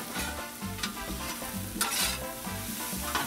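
Seasoned vegetables sizzle on a Blackstone 22-inch griddle while a spatula scrapes and stirs them in quick, repeated strokes, close and busy throughout.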